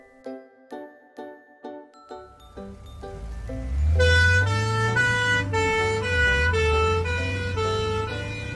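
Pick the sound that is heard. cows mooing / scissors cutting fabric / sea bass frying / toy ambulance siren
toy ambulance siren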